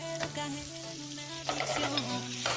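Potatoes and onion fry in a splash of olive oil in a pan, a steady close sizzle with occasional stirring scrapes and spatters, and no one talking over it.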